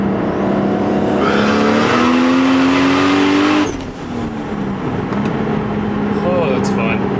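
A Toyota Supra pulls hard in third gear with a loud engine note rising steadily, then the throttle lifts partway through and the roar drops to a lower, rougher drone.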